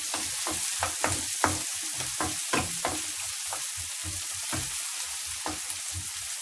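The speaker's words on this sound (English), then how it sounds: "We need to cook a little bit the onion." Onion sizzling and frying in a pan for egg fried rice, a steady crackling hiss with repeated rhythmic stirring scrapes, close up and with no talking.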